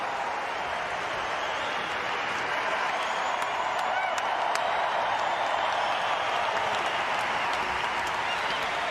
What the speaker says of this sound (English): Asking the crowd for even louder applause, Shapovalov, and it certainly deserved at the point